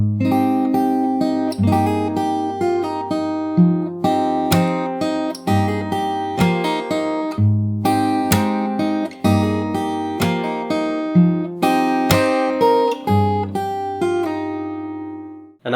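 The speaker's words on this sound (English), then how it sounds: "So that's the whole verse. I'll play it once slowly." The verse of a song played slowly on fingerstyle acoustic guitar, with a clear close-up run of plucked notes and ringing chords over a steady bass, each phrase decaying before the next pluck.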